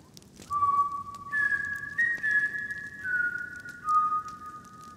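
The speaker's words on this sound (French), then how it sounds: "le sifflement retentit" Shrill, steady whistling tones hold and shift pitch over several seconds, with a soft patter of background noise beneath.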